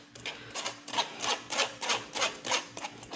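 Chicken liver pâté pushed through a mesh strainer, rhythmic close rasping strokes about every half second with a low hum underneath, no talking.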